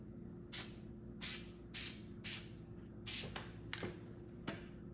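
Plasti Dip sprays in short hissing bursts onto Tesla emblems, about seven quiet aerosol spurts in a steady rhythm with a low hum running underneath.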